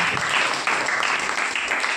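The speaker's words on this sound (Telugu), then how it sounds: "చప్పట్లు కొట్టి" Applause from a congregation during a church sermon, a dense continuous patter of many hands clapping at steady loudness for about two seconds, with no voice over it.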